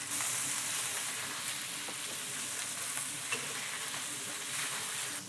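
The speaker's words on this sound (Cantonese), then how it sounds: "落啲肥牛入去啦，將啲肥牛煎香佢先" Steady, loud sizzling of sliced beef frying in a hot iron wok, a continuous crackling hiss with small pops throughout and no talking.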